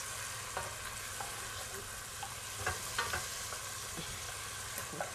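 Onions, garlic and tomatoes sizzle softly in a pot for sancoche, with scattered scraping and clinking of a stirring spoon over a low, steady fry, fairly quiet and without voices.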